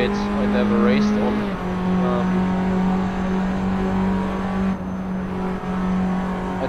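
Tatuus single-seater engine droning steadily through a Silverstone lap in the Assetto Corsa sim, a sustained tonal whine with shifting pitch running under continuous talk.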